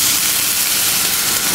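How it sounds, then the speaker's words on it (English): Wine poured over golden garlic in a hot pan sizzles with a loud, continuous crackling hiss that fills the whole moment, up close. "crackling and sizzling."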